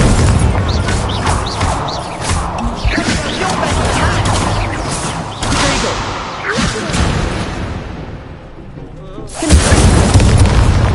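Booming fire-spell blasts from the Hogwarts Legacy video game, the Incendio spell cast repeatedly in a loud rush of explosive bursts, fading briefly before one more heavy blast near the end.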